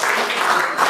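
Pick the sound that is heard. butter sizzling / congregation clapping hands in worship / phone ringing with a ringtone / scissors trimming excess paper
congregation clapping hands in worship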